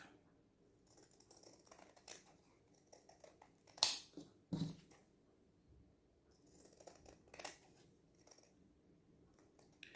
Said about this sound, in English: cut off 2 centimetres, 2 centimetres, and then cut that off